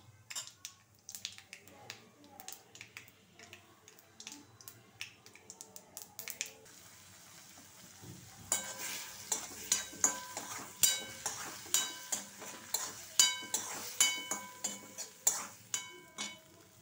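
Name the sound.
tempering (popu) sizzling in a pan for beans curry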